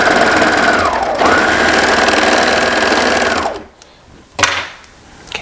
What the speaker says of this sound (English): I'm going to sew this short end so that I create a circle